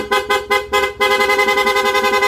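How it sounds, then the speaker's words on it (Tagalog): A PIAA car horn blares close and loud, first in four short separate honks, then in a fast rapid-fire series of pulsing beeps. "Busina ni sir"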